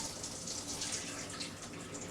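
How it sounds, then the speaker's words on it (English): Liquid from two cans of sweet peas is drained off in a faint, continuous splashing trickle, like water running from a tap, with no voices. "I'm going to drain 2 cans of sweet peas real quick."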